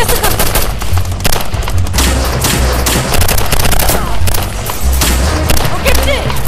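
Gunfire in a Turkish TV drama battle scene, an attack on a military outpost: dense, continuous bursts of rifle and machine-gun fire with booming reports, loud and close, and shouting voices mixed in.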